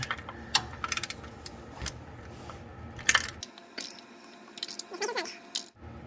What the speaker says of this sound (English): this is the last bolt that needs to be tightened